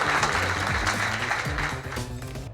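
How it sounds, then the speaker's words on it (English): An audience applauds panelists at a public mobility conference in Miami, a steady, dense clapping that fills the whole moment at moderate loudness. "Let's give our panelists a great round of applause."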